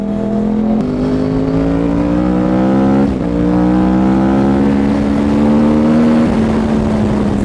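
Yamaha R1 sport motorcycle fitted with a Toce exhaust, ridden through Mumbai streets: a loud, continuous engine drone that climbs and shifts in pitch with gear changes, steady and close, with no talking.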